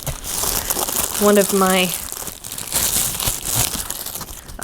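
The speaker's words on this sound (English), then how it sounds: "I'm gonna cut this open because I really don't like the sound of that rustling plastic noise" Crinkly plastic packaging around a Glocusent neck lamp rustles and crackles as scissors cut it open, up close, while a person talks briefly over it.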